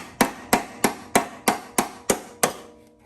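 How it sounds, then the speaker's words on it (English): Eight sharp hammer strikes land at a steady, even rhythm, each ringing briefly before the next blow, with no talking. "Hammering tool."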